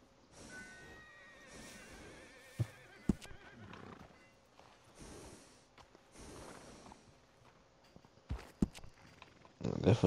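A horse in Red Dead Redemption 2 gives a clear, rising whinny early on, followed by scattered hoof clops, snorts and sharp knocks over a quiet background.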